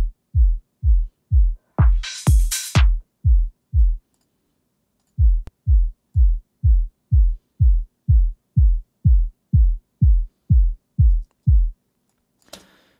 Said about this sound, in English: I'll play the track and listen to that drum sidechain.